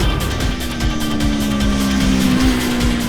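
A Kawasaki Ninja 7 Hybrid motorcycle accelerates hard on boost down a straight. The engine note holds a steady loud drone close by, with a faint whine riding over it.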